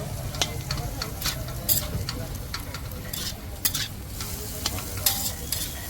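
Hyderabadi pulav being stirred and mixed in a large pan at a street food stall, with repeated scraping strokes of the spoon over a steady low sizzle, loud and close.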